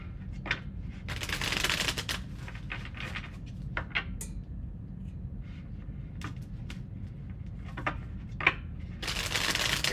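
Tarot cards are shuffled close up in repeated riffling bursts and soft slaps, with quiet pauses between, ending in a final vigorous shuffle.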